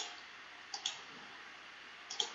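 Two quick pairs of soft computer mouse clicks sound in a quiet room while working in GardenCAD, faint and close.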